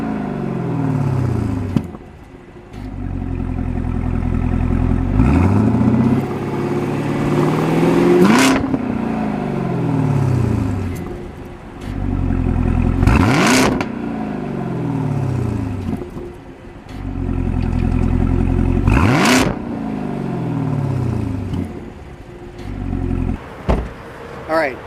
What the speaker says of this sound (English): Let's get some revs in, because I know some people are probably going to want to see some revs with the car.